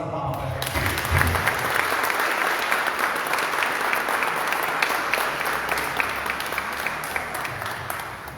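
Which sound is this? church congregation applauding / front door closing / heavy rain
church congregation applauding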